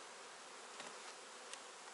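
Honeybees at an opened hive after smoking under the cover cloth, a steady broadband buzzing hum with a few louder individual bees passing close, no voices.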